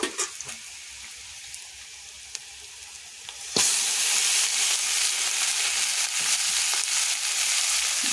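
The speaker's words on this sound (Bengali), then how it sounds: "পেঁয়াজের সাথে মাংসগুলোকেও আমি ভালো করে ভেজে নেব" Chicken pieces hit hot oil with frying onions for a homestyle desi chicken curry, bursting into a loud, steady sizzle after a quiet, faintly stirred start.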